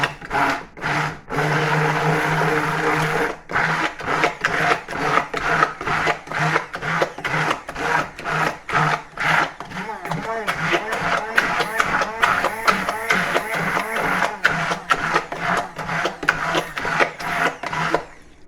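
A stick blender purees chicken liver pate in a loud, steady motorized whir that runs nearly the whole time, with brief stops and shifts in pitch as the blade works through the mixture, close by.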